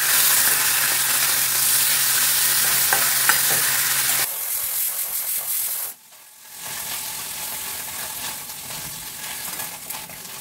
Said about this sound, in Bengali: এই দেখো কড়কড়ে করে ভাজা হয়েছে, দেখেছো?